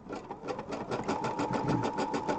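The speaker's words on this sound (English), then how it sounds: "So now it's sewing out the top part of the design." An embroidery machine stitches out an ornament design, a fast steady mechanical whir with rapid needle pulses, continuous and close.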